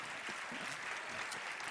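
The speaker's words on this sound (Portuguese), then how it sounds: "Pode aplaudir ao Senhor" Church congregation applauding during a worship service, steady dense clapping throughout at moderate loudness with a faint murmur of voices beneath.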